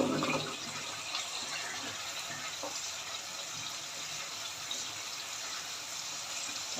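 Water is poured from a glass into spiced mangochiyan masala in a cooking pot, a loud gushing splash at first that settles into a steady hissing fill, with no talking.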